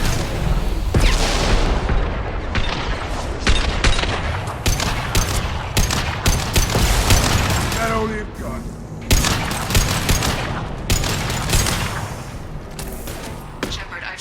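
A firefight in Mass Effect 2 Legendary Edition: loud, close bursts of automatic gunfire and heavy booming shots hammer in irregular volleys. Combat voices sound under the shooting.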